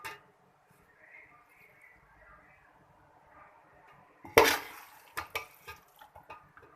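Chicken chow mein being served from a pan into a dish, a quiet stretch followed by a burst of clattering utensil scrapes and clinks against the dish, then several lighter knocks.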